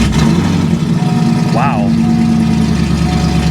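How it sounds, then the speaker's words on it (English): A low-mileage Chevrolet Corvette Z06 rated at about 400 horsepower runs loudly at a Copart salvage yard, a deep, steady idle rumble close by while a voice briefly exclaims over it. "So I think we'll be able to fire it up this time."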